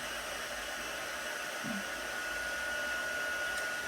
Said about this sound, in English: when you're heat embossing, remember you're just going to heat until you see it turn nice and shiny